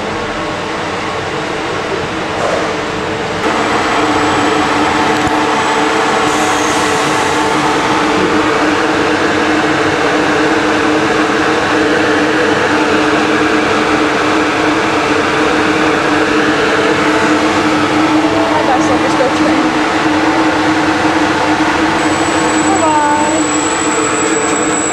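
A B&M roller coaster train, Silver Star at Europa Park, rolls slowly into the station with a steady mechanical rumble and hum throughout, interrupted by a few soft squeaks.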